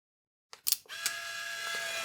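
A quick mechanical click of a Fujifilm Instax Mini 12 shutter, then a whirring motor hum that continues steadily as the print begins to eject.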